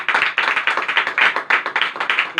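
A church congregation claps loudly together, a dense burst of rapid hand claps forming strong rhythmic applause that fills the room without pause.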